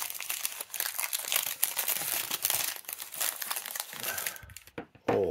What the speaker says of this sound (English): So this is the way it comes. Wrapped in the lovely paper.